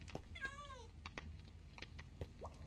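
A single short cat meow from Minecraft, faint and quick, among soft clicks and game sounds, with someone speaking quietly around it.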